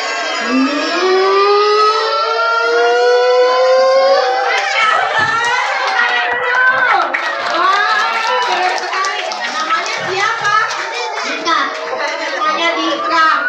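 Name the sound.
children imitating an iftar siren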